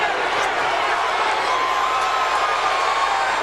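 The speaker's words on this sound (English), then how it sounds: "The crowd's encouraging him." Arena crowd at a heavyweight boxing match cheering and roaring in a continuous loud wash, with scattered whoops, while a commentator talks over it.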